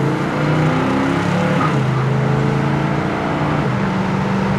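A 1965 Pontiac GTO with its 389 engine accelerating hard and shifting gears, a loud continuous exhaust roar whose pitch climbs, drops briefly at a shift, then climbs again, heard close with no talking.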